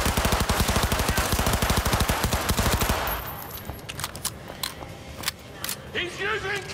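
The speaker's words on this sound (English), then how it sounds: "Enemy contact. Shoot." Sustained rapid automatic gunfire in Cyberpunk 2077, loud and close for about three seconds, then stopping abruptly into scattered sharp clicks and distant shots with faint voice fragments.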